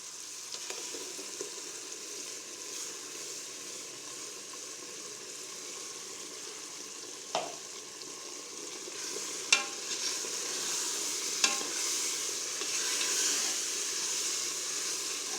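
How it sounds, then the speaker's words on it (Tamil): Steady sizzling of masala paste frying in hot oil for vegetable biryani, with a few sharp clicks of a spoon stirring the pan; no voices. "நல்லா எண்ணெயில் அந்த மசாலா நல்லா கொதிக்கிட்டோம். நல்லா கிளறிட்டே இருக்கலாம்."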